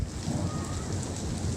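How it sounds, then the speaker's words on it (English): Rain falling during a Kansas summer storm, a steady dense wash of patter with low rumbling underneath, close and fairly loud, no talking. "The rain has died down just a little bit."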